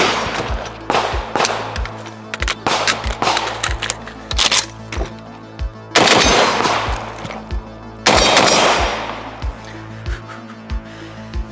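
Rifle fire in a rapid string at targets, sharp loud cracks coming in uneven bursts with a few heavier, denser volleys, close and alone with no talk.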